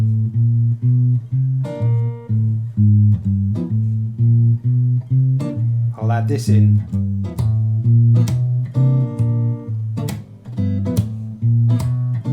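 Plucked guitar notes walk through a low bass line, punctuated by sharp percussive slaps and taps in a steady groove, with a brief spoken aside.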